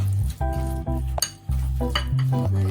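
A utensil stirs food in a pan, with close scraping and light metallic clinks against the pan amid a humming background. No speech.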